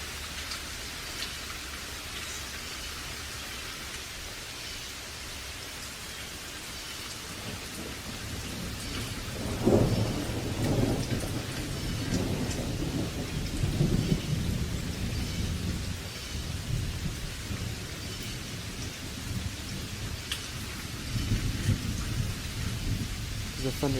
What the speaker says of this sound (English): The thunder's loud.